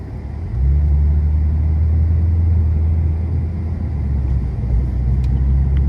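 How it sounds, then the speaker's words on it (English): A 2014 Maserati Ghibli S Q4 engine starts up with a deep rumble and settles into a steady, throaty exhaust drone that holds loud and close. "menacing European exhaust, and that's what you get here, specifically in this SQ4"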